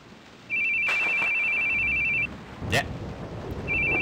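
A phone rings in The Boogie Man video game, a steady electronic tone that sounds for a couple of seconds, pauses while a voice speaks briefly, then starts ringing again.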